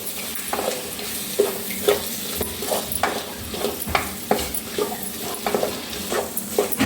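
Masala is stirred into bitter gourd frying in a pan, giving a steady sizzle with repeated scraping stir strokes at a regular rhythm, close and clear with no talking.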